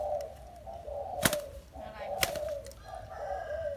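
Caged Vietnamese and Malay decoy birds call in repeated, fairly loud tonal phrases, with a couple of sharp clicks in between.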